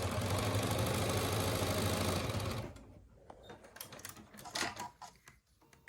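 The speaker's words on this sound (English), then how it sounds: "So let me just sew this real quick." A sewing machine stitches fabric in a fast, steady mechanical whir for a couple of seconds, then stops, leaving faint handling clicks and rustles.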